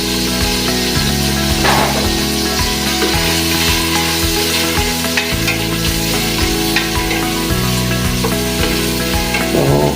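Garlic and onion sautéing in a pan for Filipino pork estofado, a steady close sizzle with scraping stir strokes running throughout, mixed with a continuous low tonal background.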